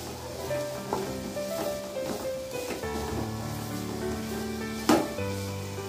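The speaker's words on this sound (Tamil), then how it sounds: "இப்போ தேங்காய் வந்து நல்லா வதங்கிருச்சு." Grated coconut and onion sauté in a pan for a mushroom kulambu, with a continuous soft sizzle and a few scraping stirs, one sharper clack near the end.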